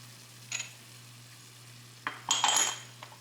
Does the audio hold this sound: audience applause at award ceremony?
no